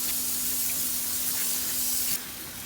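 Spray bottle misting vinegar sauce, a close continuous hiss that cuts off sharply near the end, leaving a quieter background hum.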